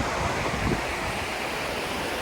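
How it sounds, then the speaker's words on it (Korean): Water rushes steadily beside a walking path along Jungnangcheon stream, a continuous broadband wash that stays loud and even throughout, with no voices. "시원한 물소리"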